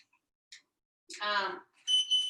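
A short, high electronic beep sounds near the end, following a brief bit of speech, with faint clicks earlier in an otherwise quiet room.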